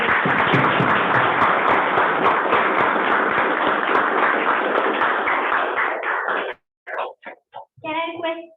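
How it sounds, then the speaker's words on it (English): Dense, loud applause from a Toastmasters club meeting audience fills most of the stretch, then breaks off into a few scattered final claps and a brief voice near the end. "Please give the round of applause"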